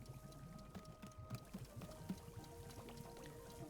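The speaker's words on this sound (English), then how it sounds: "pull the rope you see here in order to pour the tea into the cup" Tea poured into a cup in the video game Wanderstop, a soft, faint trickle of liquid running steadily under quiet ambient game music.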